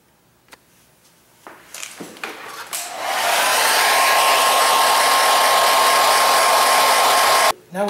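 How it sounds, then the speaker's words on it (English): A hairdryer blows on touch-up paint to dry it, starting after some brief handling knocks and then running as a loud, steady whoosh with a faint whine for several seconds before cutting off. "Now I'm just going to hit it again with the hairdryer to speed up the drying process."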